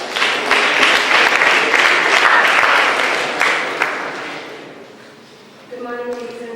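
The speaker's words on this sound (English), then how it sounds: "Please welcome to the round of applause" An audience at a university student-chapter speaker event applauds with dense clapping for about five seconds before it fades, and a voice then begins speaking into a microphone.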